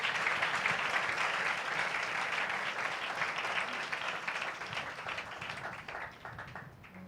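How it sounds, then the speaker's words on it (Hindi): A church congregation applauds for Jesus Christ during a sermon; many hands clap in a steady, dense wash that holds for several seconds and slowly thins toward the end, moderately loud and without talk. "2000 तालियां यीशु मसीह के लिए।"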